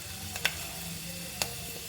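Fenugreek seeds sizzle in coconut oil in a clay pot, a soft steady fry hiss with two brief sharp crackling pops, quiet and close.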